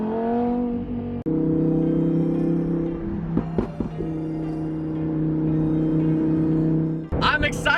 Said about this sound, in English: Being able to hear that naturally aspirated V10 right behind me with the top down is honestly out of this world, and especially the backfires.